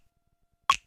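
A single crisp finger snap, close and dry, used as a sample, ringing briefly after a stretch of silence.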